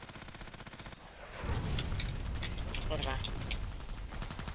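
Rapid gunfire and heavy cannon-like blasts from the online shooter game Contract Wars fill the mix, a dense continuous barrage that swells louder after a brief lull, with someone speaking briefly over it.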